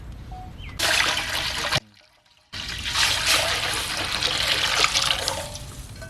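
Water pours steadily into a pot of drumsticks (moringa pods) for boiling, with a splashing rush, stops briefly, then resumes and keeps pouring for several seconds.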